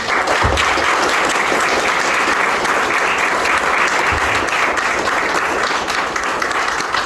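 Sustained, dense applause from an audience at a book presentation fills the room, loud and even throughout with no break.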